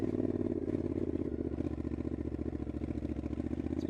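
A big motorcycle rumbles along an off-road track, its engine a close, steady throbbing drone with rhythmic pulsing and light clatter from the rough ground, with no talking.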